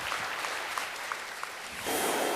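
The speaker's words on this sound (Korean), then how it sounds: "큰 박수 보내주시기 바랍니다." A studio audience at a small-business pitch event applauds, a steady, even wash of many hands clapping at moderate distance that swells slightly near the end.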